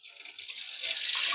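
Hot water runs from a sink tap in a classroom cleanup, a steady broadband hiss that builds slightly in strength over a short stretch, with no voices.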